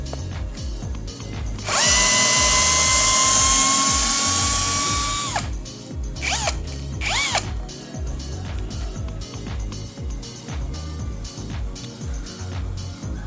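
A brushless cordless drill whines at high speed for a few seconds driving a screw fully into wood, then stops; brief bursts follow amid knocking and clatter.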